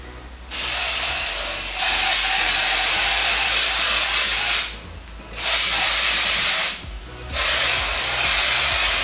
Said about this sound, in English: I have given this a spray and it definitely does dry it